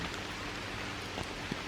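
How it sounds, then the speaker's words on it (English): Steady rain falls outside at moderate strength, a dense even hiss with a few louder drops landing near, continuous across the moment with no voices. "It's not pouring, but it's, you know, it's raining enough."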